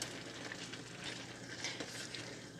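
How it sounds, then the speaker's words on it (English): Food fries in a pan while being stirred: a continuous close sizzle with scraping, shuffling stir strokes across the cooking surface and no voices. "Stir it up. Get everything incorporated."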